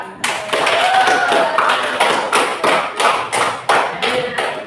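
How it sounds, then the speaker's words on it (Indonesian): A classroom group claps hands in loud, near bursts during an Indonesian teaching lesson, starting as a continuous clatter and then settling into a rhythmic pattern of distinct claps. "Oke, tepuk tangan."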